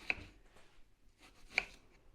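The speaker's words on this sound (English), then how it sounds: "So I'm going to cut the onion in half this way, and then you're just basically cutting very thin little wedges" A knife cuts an onion into thin wedges on a board, two crisp chopping taps about a second and a half apart with soft quieter slicing between, close and faint.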